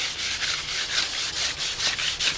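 Hand sanding of a carbon fiber part for a time attack Civic race car: steady rhythmic rubbing strokes, about eight back-and-forth passes, close and fairly loud with no talking.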